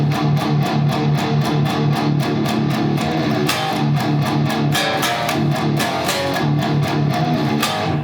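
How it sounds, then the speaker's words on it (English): Palm-muted electric guitar gallop chugs on the low string from a song, galloping rhythmic bursts played steadily and loudly with band backing throughout, no talking. "we're going to do some chugs, so some palm mutes on the bottom string"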